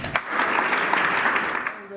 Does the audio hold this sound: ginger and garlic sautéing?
no